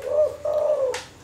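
A zebra dove or spotted dove gives two close, mellow coos in quick succession, clear and near, with no voices.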